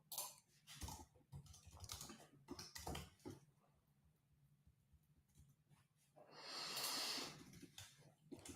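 Quiet, close clicking of keys on a detached computer keyboard comes in bursts of uneven taps with pauses, followed by a soft breathy exhale or snort near the end.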